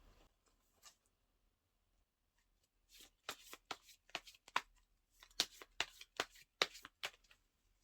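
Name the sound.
shuffling tarot cards before drawing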